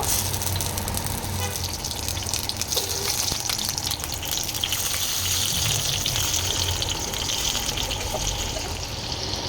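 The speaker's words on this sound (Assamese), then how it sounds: "তেলখিনি অকণমান গৰম হ'ব দিম। এনেদৰে আপোনালোকে বিলাহীখিনি দি ল'ব।" Tomatoes fry in hot mustard oil for tomato chutney, a loud, continuous close sizzle with a bubbly, watery hiss that holds steady throughout.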